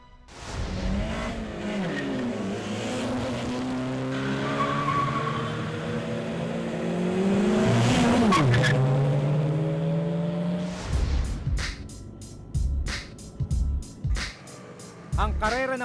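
Motorcycles in an illegal street race on Macapagal Boulevard scream past with rising and falling engine whines, several overlapping passes building loud, then crowd noise and talk in short bursts.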